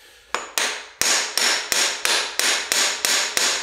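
A hammer strikes the rear axle of a Kawasaki ZX6R track bike during rear tire removal. There are nine loud, close metallic blows at a steady, quick pace, each ringing briefly before the next.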